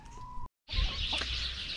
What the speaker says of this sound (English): we talked about Siniza, which is this chicken right here